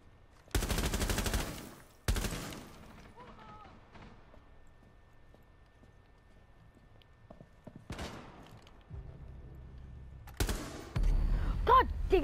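Glaz sniper rifle fire in Rainbow Six Siege, several sharp, loud, separate shots that burst out and decay, spread across the clip with quieter game noise and voices between them.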